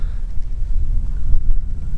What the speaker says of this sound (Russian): плохо, что ветер усиливается